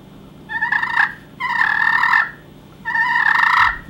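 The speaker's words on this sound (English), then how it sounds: "with the Slate, I mean, it makes excellent purrs." Slate turkey call worked with a striker, giving three loud, close bursts of rolling purrs, each about half a second to a second long, with short pauses between, no talk.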